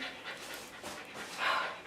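Havanese puppies pant in quick, steady breathy bursts close by, with a slightly louder huff near the end and no talking.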